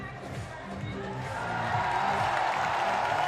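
Crowd at a men's bouldering final in Prague swelling into cheers and whoops as a climber pumps them up, a steady roar of many voices building louder toward the end, with commentary talk over it.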